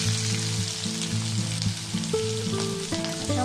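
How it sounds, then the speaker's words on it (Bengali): Capsicum frying lightly in a pan for a vegetable pasta, giving a steady close sizzle with soft hiss and faint stirring scrapes, and no voices over it. "ক্যাপসিকামগুলো একটু হালকা ভেজে নেবো, ভাজলে খেতেও ভালো লাগবে।"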